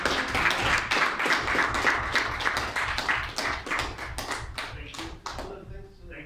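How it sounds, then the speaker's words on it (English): Audience clapping at a book launch, a brisk patter of individual hand claps close by that gradually thins and fades toward the end, with faint voices underneath. "Can we get a round of applause for Dr. Bouah?"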